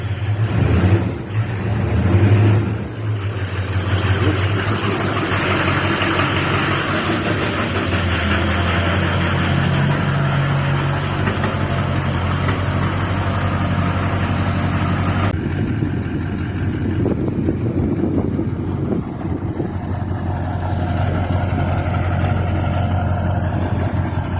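A Duramax diesel in a squarebody Chevy revs briefly, then settles into a long, steady, loud idle rumble that continues with little change.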